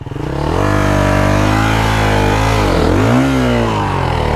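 A two-stroke 300cc motorcycle engine revs hard and close, holding a loud, steady buzzing drone with a brief dip and climb in pitch near the end, with no talk over it.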